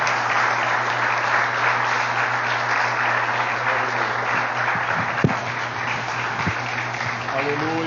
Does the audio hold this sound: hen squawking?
no